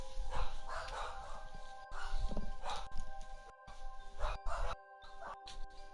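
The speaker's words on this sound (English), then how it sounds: "Why are they barking?" Dogs bark repeatedly in short bursts over a steady electronic hum, with faint yips between the louder barks.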